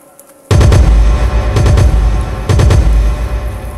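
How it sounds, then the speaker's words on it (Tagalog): Loud, heavy gunfire booms out of a quiet start. It rolls on in sustained bursts with repeated sharp cracks layered over a deep rumble. "May barilan sila."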